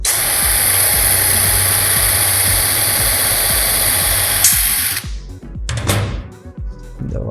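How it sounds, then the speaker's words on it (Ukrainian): Power drill boring a hole in a steel angle, a loud continuous high whine and grinding that runs for about five seconds, then stops abruptly, followed by handling noises and brief bursts. "Отже, давайте зробимо отвір. Так. Оберти побільше."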